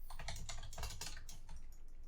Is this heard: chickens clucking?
no